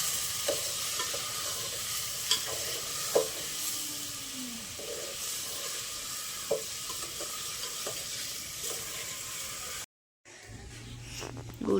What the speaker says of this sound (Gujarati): ભાભી શાક વઘારી આજ તો ચૂલા ઉપર